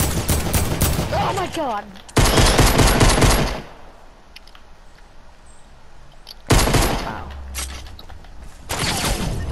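Rapid automatic gunfire from a video game gun game mode erupts in loud sustained bursts, pauses, then resumes twice more, with a startled voice exclaiming near the start.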